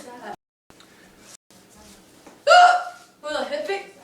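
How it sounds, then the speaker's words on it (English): A person hiccups a couple of times, sharp and close, between stretches of their own talking and a brief laugh-like vocal sound. "Hiccup."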